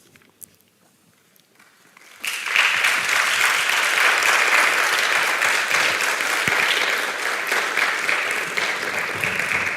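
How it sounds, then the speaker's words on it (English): A graduation audience at a medicine and health sciences ceremony applauds the supervisors, starting after a quiet pause and continuing as steady, dense clapping to the end. "we're going to give them a hand of applause"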